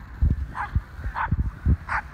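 Dogs barking and yipping as they play on a clean, cold seaside beach, with a series of close, loud bow-wows and short yips in quick bursts and no talk over them.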